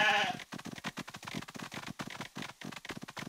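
Sheep bleat in the Paw Patrol Academy numbers round-up video game, a short, loud bleat right at the start followed by a run of quick, rhythmic game sounds.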